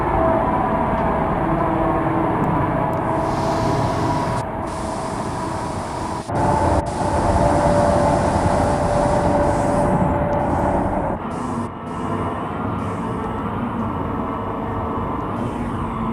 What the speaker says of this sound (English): This is a 124th Street bound A express train.